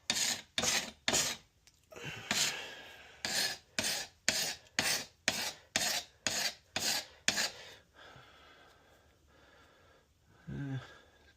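Wood is chiseled out for a lock install, a series of sharp scraping strokes repeated at a steady pace that fade into quieter scraping. A brief voice comes in near the end.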